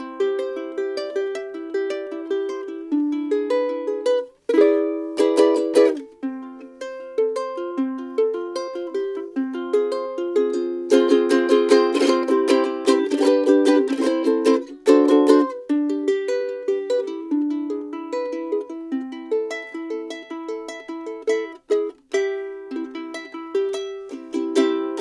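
A Flight TUS 35DB soprano ukulele is strummed and picked for about twenty-five seconds, bright plucked chords and melody lines with occasional sharp strum bursts, close and clear with no voices.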